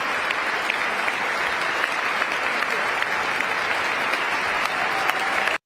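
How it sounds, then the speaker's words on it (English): A legislative chamber crowd gives a standing ovation after a speech about a national emergency at the southern border: sustained, even applause filling the room at a constant level until it cuts off abruptly. "Of course, he gets a standing ovation now"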